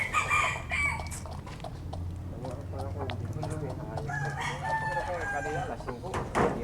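Backyard chickens clucking and crowing at feeding time, a steady flock chatter close by with a rooster call and scattered clucks, while people talk in the background.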